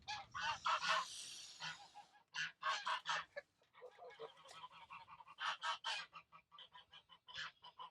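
Nesting geese sitting on eggs honk and cackle in repeated loud bursts close by, with short pauses between calls.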